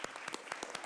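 Brief round of clapping for Mr. Garcia at a city council meeting, a handful of people producing quick, fairly regular claps, soft and somewhat distant.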